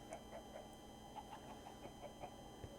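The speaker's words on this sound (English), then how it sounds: "He's got some chickens." Chickens in Minecraft's Sky Factory 3 modpack give a string of soft, short clucks at an uneven rhythm, faint and distant over a low steady background, with no talking.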